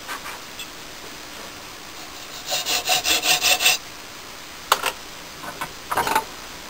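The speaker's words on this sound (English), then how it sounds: "It's not the perfect saw for cutting end grain." Hand saw cutting across the end grain of a laminated block made of three pieces of wood: a quick run of about eight close, rhythmic rasping strokes, then a few scattered clicks and a short final burst of sawing.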